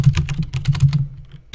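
Rapid typing on a computer keyboard during a drawing game, a close run of crisp key clicks in quick bursts that pauses briefly near the end before one more keystroke.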